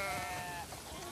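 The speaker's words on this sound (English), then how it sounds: "We definitely have way too many sheep." Sheep on a farm in The Last of Us Part II bleat in a single wavering cry lasting about a second, close and fairly clear over a soft, noisy background.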